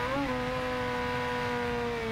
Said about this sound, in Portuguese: Eu tô nem acelerando, a moto tá indo sozinha.